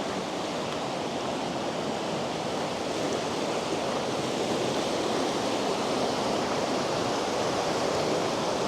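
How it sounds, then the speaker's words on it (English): A swift mountain creek fed by the Intermitting Springs near Afton, Wyoming rushes steadily, a broad continuous roar of flowing water with no voices, close and unbroken throughout. "This is where you see that the Intermitting Springs part merges in with a Swift Creek here."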